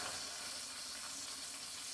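Pork frying in a pan for cucumber sandwiches, giving a steady, close, fairly quiet sizzle with fine crackling spread evenly over two seconds, with no talking.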